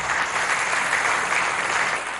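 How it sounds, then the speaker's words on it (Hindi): Studio audience on a Hindi TV game show claps in steady, dense applause at even loudness throughout, with no voices. "जोरदार तालियां"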